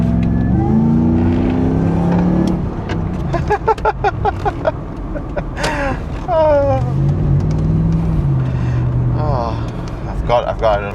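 A supercharged 2UZ V8 in a 100 Series Land Cruiser idles with a low, steady drone and briefly swells in pitch, while someone talks over it for most of the stretch.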